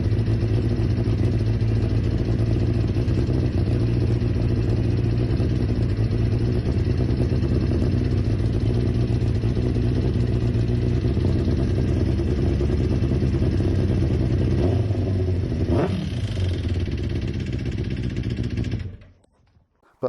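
A 23-year-old Kawasaki Ninja ZX9R motorcycle engine runs steadily close by, then is revved in one quick rising blip near the end before the sound cuts off.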